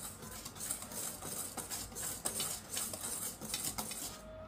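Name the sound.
mixing sugar into liquid ingredients in a bowl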